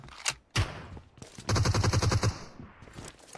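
Video game pistol gunfire rings out in close, rapid bursts: a couple of sharp single shots, then a quick rattling string of shots that trails off.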